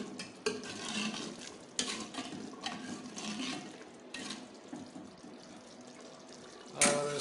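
Beef liver masala is stirred in a pot, with quiet scraping strokes and wet sizzling repeating in uneven bursts, fairly faint and close.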